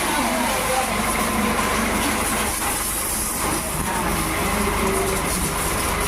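Tractors stuck together in a muddy village field in Abiyana put out a loud, steady, broadband engine rumble with no break, close by and with no voices over it.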